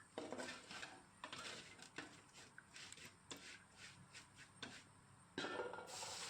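A spoon stirs coconut pieces into a cooking mixture in a pan for a tapioca and beef dish, producing quiet, repeated scraping and clinking strokes in an irregular rhythm.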